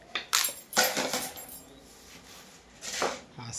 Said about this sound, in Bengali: এই যে আমি কুমড়াটা কাটছি।